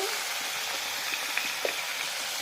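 Fish curry with moya fish and khuriya stalks being stirred in a pan, giving a steady close sizzle and hiss with a few faint scrapes and clinks of the spoon.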